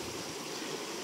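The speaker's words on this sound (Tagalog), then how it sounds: "Malinis na river." A clean river in a farm setting flows steadily, a continuous broadband rush of water over gathered stones, close and even throughout with no voices.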